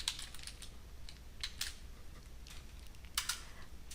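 Typing on a computer keyboard while notes on specular reflection are written up, scattered light key clicks in small clusters, close and quiet, with no talking.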